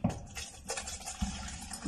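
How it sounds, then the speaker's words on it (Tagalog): Water is added to a pot of ube cooking with coconut milk, with close splashes at the start and again partway through and quieter trickling between, and no speech. "Maglalagay tayo ng tubig."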